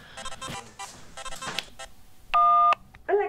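Telephone tones on a call: a few short clusters of beeps, then a loud sustained tone of under half a second and a final warbling tone, over quiet background noise.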